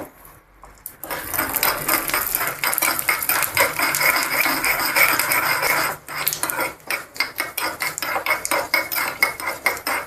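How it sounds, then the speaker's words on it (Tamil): Mustard seeds splutter and pop in hot ghee during tempering for Kanchipuram idli batter: a dense, steady crackle of rapid tiny bursts, briefly dropping away once before resuming in sharper clusters. "அடுத்தது கடுகு போட்டுக்கிறேன் கடுகு பொரியட்டும்"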